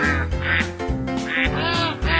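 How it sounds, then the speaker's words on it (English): Several ducks quack loudly and close, in overlapping bursts with no break through the short stretch, kept inside a living room as exotic pets. "We'll be right back after Bob gets the ducks out of his living room."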